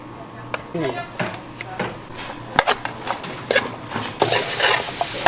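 Eggplant fries in plenty of oil at a Korean home-style buffet kitchen while a utensil stirs it often, producing repeated clacks and scrapes against the pan over a gentle sizzle, with a voice faintly in the background.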